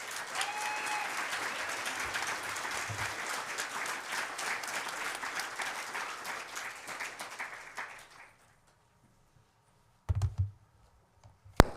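Steady applause from a conference audience at a Drupal higher-education summit fills the room for about eight seconds, then cuts off into near silence broken by a couple of brief bursts.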